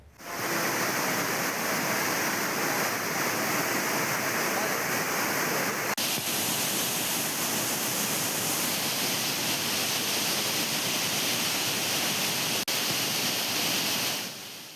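Courtallam main waterfall roars as a loud, steady wash of falling water, constant and close for the whole stretch with no break.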